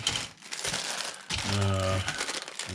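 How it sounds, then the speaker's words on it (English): A plastic bag of parts from a Revell Bronco Buggy and trailer model kit crinkles up close in short bursts of rustling during unboxing, with a brief voice partway through. "One more smaller white plastic bag with the front and rear"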